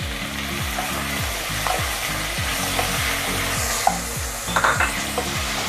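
Chopped onions frying in hot oil with cumin seeds, a steady loud sizzle with rhythmic stirring scrapes repeating about every half second, no talking.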